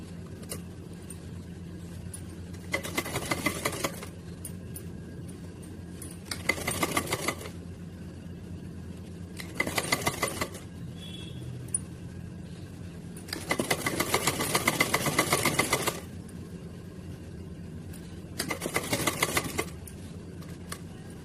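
A sewing machine stitching a small Radha Rani dress runs in five separate bursts, each a steady mechanical whir of a second or two with pauses between, the longest near the middle, with no talk.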